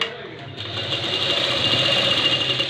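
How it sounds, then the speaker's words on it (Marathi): A sewing machine running steadily as it stitches a quarter-inch seam on an inside-out blouse, a continuous close mechanical whir lasting throughout. "पुन्हा असं ब्लाऊज उलटा करून पाव इंचावर शिलाई मारून"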